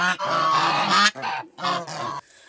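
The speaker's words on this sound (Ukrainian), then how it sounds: "там так само є такий гусак наглий" A goose in a snowy winter farmyard in western Ukraine gives several loud, close honks in quick bursts separated by short gaps, heard alone with no talking.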